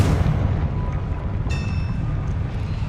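Explosive spells going off in the Hogwarts Legacy video game, a loud dense barrage of booming blasts with a bright magical shimmer partway through, sustained throughout.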